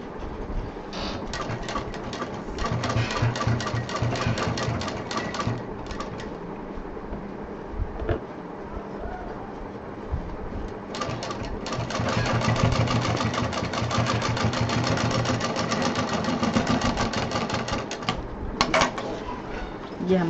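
A sewing machine stitches piping onto a DIY big backpack, a fast rattling needle run in long continuous bursts with short pauses between them, close and fairly loud.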